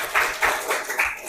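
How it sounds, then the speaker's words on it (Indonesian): Students in a classroom clap together in four quick, evenly spaced group bursts, a short rhythmic unison clap heard fairly close, and no talk. "Tepuk tangan."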